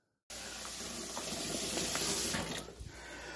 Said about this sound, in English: we're going to get some cold water. We're going to put the beet in cold water to stop the cooking process